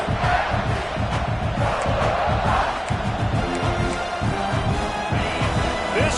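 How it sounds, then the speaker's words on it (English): A stadium crowd at a college football game between South Carolina and West Virginia roars and cheers in a sustained, loud wash of noise. "This crowd bringing the energy and noise early"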